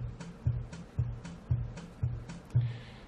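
Percussion from a recorded music example, sharp drum hits landing in a steady rhythm about twice per second, each with a low thump and bright attack, heard alone at moderate level.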